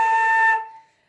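A single short flute note, blown hard with a more open embouchure, gives a brief airy tone that cuts off and decays quickly, close and moderately loud.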